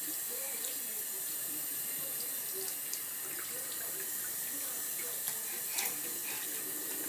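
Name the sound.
running water from a tap while washing a face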